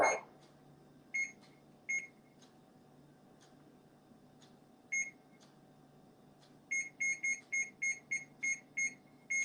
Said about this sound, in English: the timer is set for 45 minutes